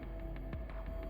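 A pattern loop from a Roland SP-404 MK2 sampler drenched in heavy reverb, a low throbbing hum with soft repeating hits and a thumping beat washing through a long tail.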